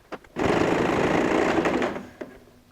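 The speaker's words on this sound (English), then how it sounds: "Now I just go ahead and sew on top of the stitch we have sewn, so that will just close the seam." A sewing machine runs in one steady burst of about one and a half seconds, stitching over a closed seam on a quilted cross-body messenger bag, loud and close, with brief clicks just before and after.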